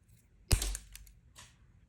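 A plastic miniature knight's hat is cut with one sharp, close snap followed by a faint click in a quiet room.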